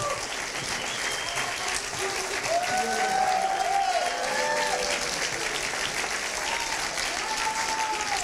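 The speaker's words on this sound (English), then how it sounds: "Could we give them a warm round of applause?" Audience applause for a logistics team called on stage at the HEC Paris MBA talent show, a dense, steady wash of many hands clapping for about eight seconds, with faint voices and whistle-like tones rising through it.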